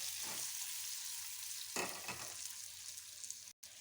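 Fried capsicum is stirred with chilli powder and crushed peanut powder in a hot pan: a steady close sizzle with a few scraping stir strokes and a brief break near the end.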